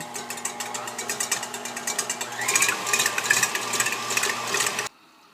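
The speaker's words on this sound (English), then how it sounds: "I'm going to go ahead and start beating the egg whites until they get stiff" An electric mixer whirs steadily up close while beating egg whites to stiff peaks for black walnut divinity candy. The beaters rattle rhythmically against the bowl until the motor cuts off abruptly near the end.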